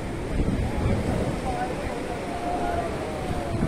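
Steady wind rushes past by the sea at Stanley Plaza, a constant broadband roar with surf-like wash underneath and no clear pauses.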